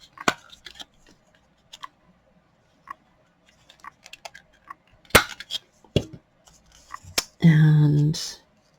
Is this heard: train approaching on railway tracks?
no